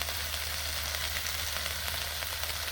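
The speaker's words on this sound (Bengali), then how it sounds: "এভাবে নেড়ে আর কয়েক সেকেন্ড ভেজে আমি এটিকে নামিয়ে নিচ্ছি" Parboiled flat beans stirred and fried in a pan, a continuous bright sizzle over a steady low hum, with light scraping of the stirring spoon now and then.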